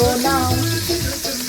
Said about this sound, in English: so we're going to start our food with frying of the shrimps